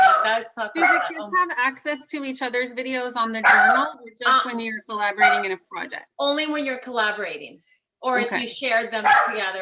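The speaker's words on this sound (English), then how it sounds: "I apologize about that dog." A dog barks intermittently in the background of an indoor conversation, its yips and barks partly masked by two people talking steadily over it.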